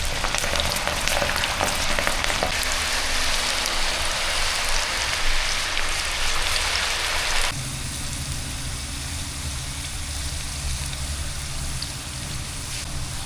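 Potatoes fry in oil with a loud, rain-like continuous crackling sizzle that suddenly drops to a quieter, gentler bubbling about halfway through, heard up close.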